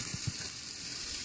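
Onions frying in avocado oil in a pan give a steady close sizzle, a dense hiss that holds throughout with a few soft low bumps.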